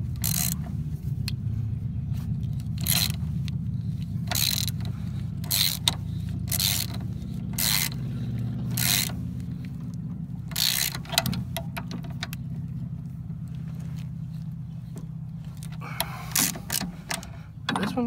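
A wrench ratchets as a Jeep Cherokee tie rod is tightened down, with repeated bursts of clicking over a steady low hum, close and fairly loud, with short pauses between strokes.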